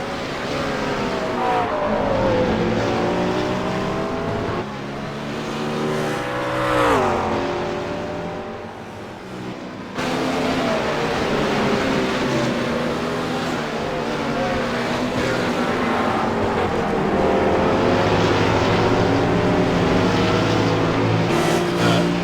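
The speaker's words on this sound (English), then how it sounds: "It looks like that New World Simsport car is spinning pretty hard out of the final turn." Race car engines in a sim race at Road America roar loudly and continuously, pitch rising and falling through shifts and revving as a New World Simsport car spins out of the final turn, with commentary talking over it.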